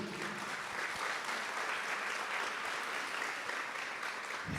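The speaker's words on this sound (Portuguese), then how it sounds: "Vamos aplaudir a mulher do Apocalipse" Audience applause for a woman in a church preaching setting, steady broadband clapping from a crowd that holds evenly for several seconds with no speech over it.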